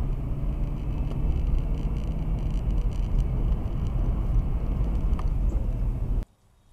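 A car drives on a frosty winter morning, its steady low engine and road rumble filling the scene for about six seconds before cutting off abruptly.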